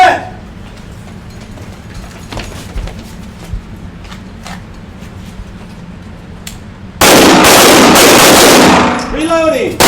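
Gunfire rings out during a partner shooting drill at an outdoor range, with scattered sharp shots followed by a loud, sustained burst, while voices call out commands.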